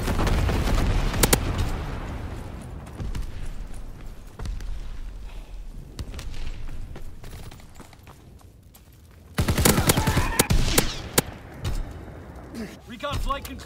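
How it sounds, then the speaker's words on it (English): Incendiary bomber air strike in Call of Duty WW2, with sharp explosive bursts and crackling gunfire scattered across a noisy battlefield, swelling into a loud cluster of blasts near the end. "Incendiary mission commenced."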